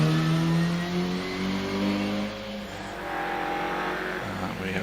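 A 105E Ford Anglia 1.7 litre race car at a Prescott hill climb, its engine revving hard with a steady, droning harmonic tone that drops and shifts as it rounds a bend, fairly close and loud with no talk.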